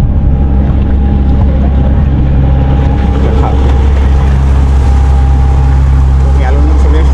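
A motorboat passing on open water, a loud steady engine drone with wind and water noise throughout, close and continuous, while people talk over it.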